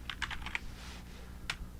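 Keys pressed on a computer keyboard, a quick cluster of soft clicks followed by a pause and a single last tap, close by in a quiet room.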